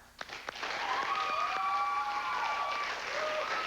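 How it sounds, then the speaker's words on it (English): An audience at a quiz-style match applauds the teams, a broad steady wash of clapping swelling up after a few scattered claps and holding strong, with a faint tonal whistle or hum drifting through it. "I think they deserve a round of applause for making it an exciting match."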